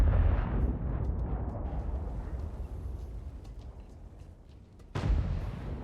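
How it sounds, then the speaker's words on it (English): Artillery fire in a tank battle video game: a heavy, rumbling boom fades out over several seconds, then a second loud blast hits near the end. "But the artillery, it's an artillery."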